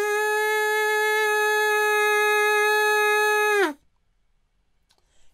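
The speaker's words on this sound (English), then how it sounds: "squeeze the straw gently with your lips and blow quite hard to get a sound" A steady, bright whistling tone with a buzzy reed edge from a drinking-straw flute holds for several seconds, then bends downward and cuts off, leaving near silence.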